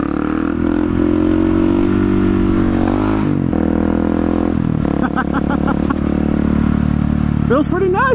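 A motorcycle is ridden hard for wheelie testing, engine revving and climbing in pitch with throttle blips and gear changes, loud and close, with wind noise and a rider's voice over it.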